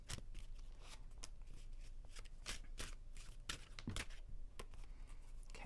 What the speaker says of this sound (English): I'm kind of tired of shuffling this deck from the other two readings, so we'll just mix them up like this